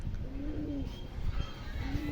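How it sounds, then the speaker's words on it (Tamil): Pigeons coo in low, soft repeated calls near a loft during tournament flight training, with steady outdoor ambience underneath. "3 புறாவும் பறந்துக்கிட்டு இருக்கு."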